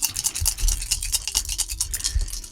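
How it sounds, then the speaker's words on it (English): A child plays with toy cars in a kitchen, making a busy run of scraping, rattling and clattering sounds with irregular small knocks, close and fairly loud, with no talking. "What you hear is my son playing with cars, running around the kitchen"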